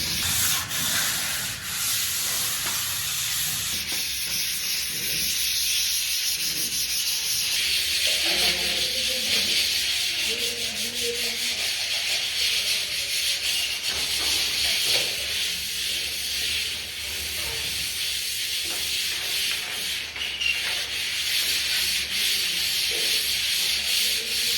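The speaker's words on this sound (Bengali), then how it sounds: "এবার এটাকে ঘষে আমাদেরকে ফিনিশিংয়ের পর্যায়ে নিয়ে আসতে হবে।" Hand sanding of dried wall putty on a wall for finishing makes a continuous gritty, hissing scrape that stays close and steady, with brief changes as the stroke shifts and no talking.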